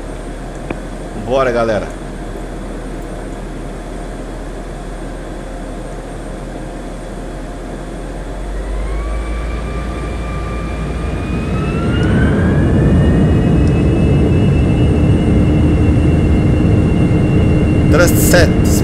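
An Embraer E175 airliner in Microsoft Flight Simulator 2020 spools up for takeoff from Campinas Viracopos, a steady engine hum rising in pitch with whining tones and building into a loud roar, with someone talking briefly at the start.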